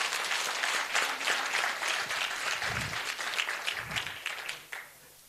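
An audience at a graduation ceremony breaks into applause, a busy patter of many hands that starts full and gradually thins, with a couple of low thumps partway through before it fades out near the end.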